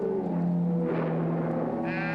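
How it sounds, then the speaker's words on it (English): A sheep in a film bleats loudly and close in a long wavering cry, followed by a second higher bleat at the end. "Sheep."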